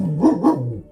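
A dog gives two quick barks close by, followed by a short whining tail, with no voices.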